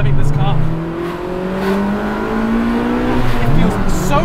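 Honda Civic Type R FD2 with a naturally aspirated K20A engine and a 5.1 final drive, revving and pulling through the gears while driving, the engine note rising steadily, loud and close, under someone talking.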